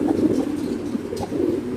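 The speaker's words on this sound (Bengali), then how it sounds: "খুব সুন্দর একটা রেসার কবুতর আপনি দেখতে পাচ্ছেন" Soft, low racing pigeon cooing repeats in a steady murmur, close by, with faint chirps above and no voices.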